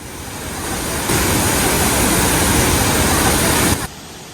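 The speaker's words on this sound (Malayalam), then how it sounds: "ഇപ്പോൾ നമ്മൾ നിൽക്കുന്നത് ഷിഫൻ വെള്ളച്ചാട്ടത്തിൻ്റെ ഏറ്റവും താഴത്തെ വ്യൂ പോയിന്റിലാണ്." The Shifen waterfall roars as a loud, steady wash of falling water heard from its lowest viewpoint. The rush swells after the first second, holds evenly, then drops off abruptly near the end.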